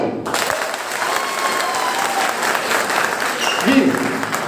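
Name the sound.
audience clapping applause at seminar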